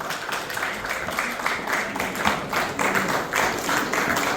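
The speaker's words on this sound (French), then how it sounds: "on continue à applaudir pour nous." A church congregation at an eleventh-anniversary tabernacle celebration applauds in steady, dense clapping that swells in rhythmic pulses, heard as a continuous moderately loud wash without speech.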